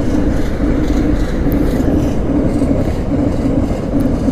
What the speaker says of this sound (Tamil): இங்கே பாருங்கள் ட்ரெயின் போகுது.